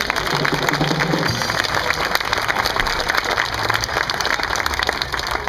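A crowd claps steadily at an outdoor street festival performance in Hamburg Altona, a dense, even wash of applause running throughout with a brief voice early on.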